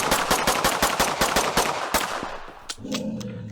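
Rapid, evenly spaced gunshots fire at a zombie in the indie video game One Way To Life, a quick burst of about a dozen sharp cracks followed by a brief pause and a few more scattered shots.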